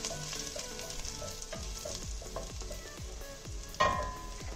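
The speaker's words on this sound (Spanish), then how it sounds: "Agregamos el ajo. El fuego está a fuego medio. Sofreímos un poco." Garlic sautés in a pan over medium heat with a gentle, continuous sizzle, punctuated by a series of light stirring taps and one sharper clink near the end, quiet and close, no voices.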